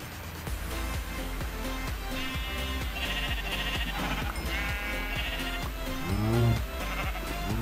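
Sheep in the video game Minecraft bleat repeatedly over steady game background music, several wavering calls spread across the stretch with a louder, closer bleat near the end.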